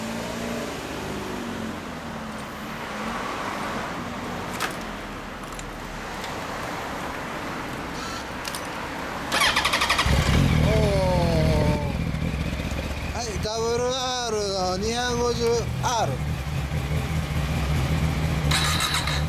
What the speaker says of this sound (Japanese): ほなエンジン音聞かせてもらおうかな。